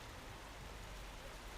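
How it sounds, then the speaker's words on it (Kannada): Heavy rain falls outdoors in a steady, dense hiss with no talk, even and unbroken through the short stretch. "ಮಳೆ ಜೋರಾಗಿ ಬರ್ತೈತೆ"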